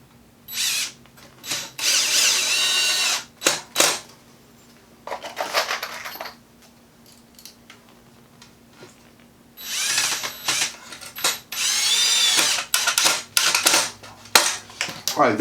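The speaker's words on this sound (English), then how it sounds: "Some guys will have 2 drills, one with a tip and one with a drill bit." A cordless power drill drives screws into wooden model railroad bench work in bursts: several whirring runs of a few seconds each, separated by pauses filled with light clattering and handling noise.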